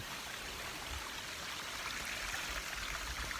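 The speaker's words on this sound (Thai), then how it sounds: "มื้อนี้ผมก็พาพี่น้องมาเที่ยว น้ำตกจิ้มไง" A waterfall and stream at a Thai forest waterfall in Phetchabun send out a steady, dense rush of flowing water, close and continuous, with no voices.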